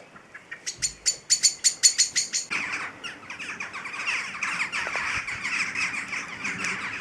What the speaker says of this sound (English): That's one of the parents, and they have both been shouting their heads off all afternoon.